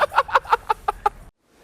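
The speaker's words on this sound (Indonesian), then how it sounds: "Nah, ini burung Makau" A macaw gives a run of about seven rhythmic, raspy squawking calls, close and fairly loud, then cuts off abruptly into near silence.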